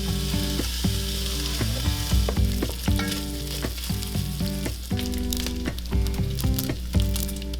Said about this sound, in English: I've got our Dutch oven on medium-high heat, and I've got about 6 pieces of bacon that I've chopped.